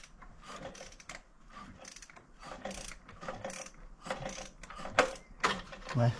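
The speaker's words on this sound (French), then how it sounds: "Je pense que j'arriverai à passer avec un cliquet là." A hand ratchet clicking as it turns a BMW N57 3.0-litre diesel engine, with repeated rapid pawl clicks in short bursts, close by, mixed with metallic knocks and shuffling.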